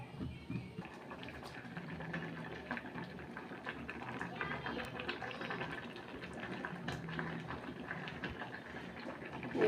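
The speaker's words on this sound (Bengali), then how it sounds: "এটা আস্তে আস্তে ফুটুক" Mixture gently simmering in a pan after frying, a soft, steady bubbling and sizzle at low level with small popping flecks, while a person talks over it.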